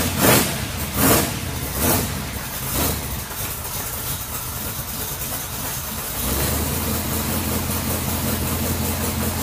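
Engine of a 1993 Chevy S10 muscle truck with a new exhaust, a steady loud rumble with a few revving surges early on, then settling into a deeper, even idle.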